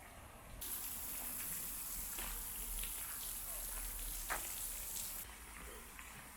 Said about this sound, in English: Nice little water fountain.